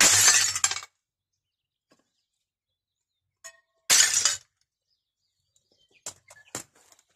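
Thick window glass breaks in two loud bursts, followed by scattered clinks of falling shards and small tinkling pieces, with no one speaking.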